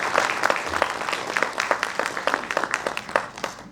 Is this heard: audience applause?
yes